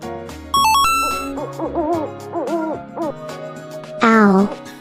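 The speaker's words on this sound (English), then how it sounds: "Owl." An owl hoots over soft background music and chimes, with a louder, wavering hoot near the end standing out clearly.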